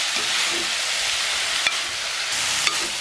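Onions for Jaffna-style seeni sambal sautéing in a pan over a low flame: a steady, even sizzle and hiss with a couple of faint clicks of stirring, no voices.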